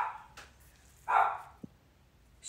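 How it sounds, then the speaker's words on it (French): A dog gives a couple of short, faint barks in a quiet room, separated by a pause. "Je suis désolée pour le chien."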